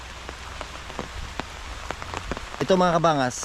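Steady rain patters on a surface as a storm approaches, a dense continuous hiss. A person begins speaking over it near the end.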